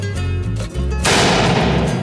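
Sharp pistol or rifle shots at a shooting range, a close, loud report around the one-second mark ringing into a dense crack, with lower rumbling noise before it.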